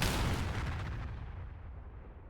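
A Shrike missile explodes on an SA-3 surface-to-air missile site in the DCS flight simulator: one loud, close, broadband blast that rumbles and slowly fades over about two seconds, with no voices.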